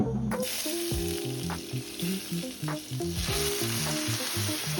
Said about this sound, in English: after adding that on a medium heat, I allow it to fry